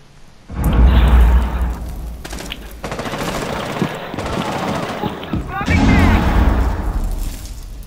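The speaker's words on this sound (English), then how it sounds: "Frag grenade out." A frag grenade detonates in the Rainbow Six Siege video game with a loud, close boom, followed by rattling gunfire and game noise, while a voice talks over the action.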